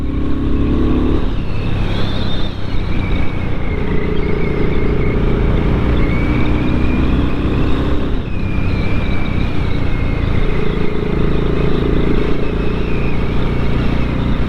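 A BSA Goldstar 650 motorcycle engine runs steadily while riding on dry tarmac, a loud continuous drone with a shift in pitch around the midpoint, heard up close without talk.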